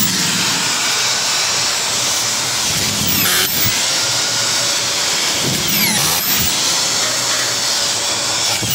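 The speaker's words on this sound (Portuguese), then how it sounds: "Tá, mas você vai botar o parafuso para segurar o estator." A power drill drives a 5x16 screw to secure a stator during assembly of a pivot unit. The motor whines loudly and continuously, with two brief pitch sweeps partway through.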